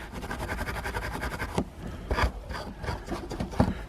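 Coarse wire wool scrubbing an old garden tool clean, a fast rhythmic rasping of close back-and-forth strokes, then slower, more separated scrapes.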